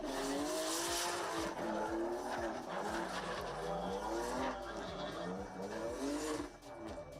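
Rear-wheel-drive drift car at a qualifying round of an Indonesian drift series, engine revving hard with long tire squeal, loud and sustained, under a commentator's voice.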